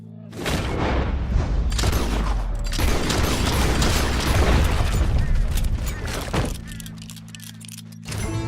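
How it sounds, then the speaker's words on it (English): Gunfire in Red Dead Redemption 2, a dense, loud burst of booming shots and mechanical clatter that runs for several seconds, followed by quieter rattling and a final sharp report, with game voices in between. "He shot the thing!"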